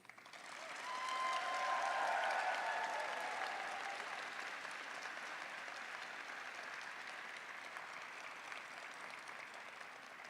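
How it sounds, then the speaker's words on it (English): Graduates and guests at a law school commencement break into a sustained round of applause, swelling early then holding steady and broad, a large crowd clapping from a distance with no speech on top. "I'm going to invite you to recognize all of them right now with a round of applause from you"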